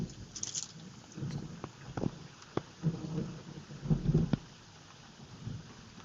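Rolling thunder from a long lightning strike during a storm on a fishing trip, heard as low, uneven booming rumbles that swell and fade over several seconds at moderate distance, with a few sharp cracks mixed in.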